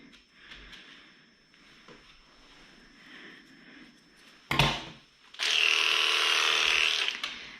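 Electric dog grooming clippers buzz loudly and steadily for the last couple of seconds after a sharp clatter, preceded by faint low handling noises during a full groom of a Maltese Westie cross.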